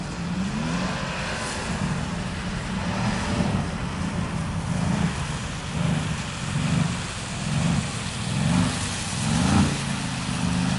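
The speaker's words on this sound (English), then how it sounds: "He's blipping that throttle, you can hear." A Mercedes car driven in a controlled drift on a track, its engine surging in repeated throttle blips roughly every second over a steady low rumble and constant road noise, with no talking.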